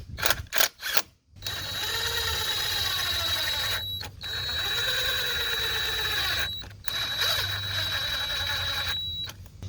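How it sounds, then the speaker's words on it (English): Bolts being started by hand on automotive R-134A A/C parts during a rebuild, close-up metallic clicks and ratcheting turns in several stretches with short pauses between, no talk. "And we'll just get all 4 bolts started."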